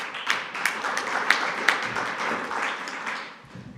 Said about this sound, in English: So a big applause for her.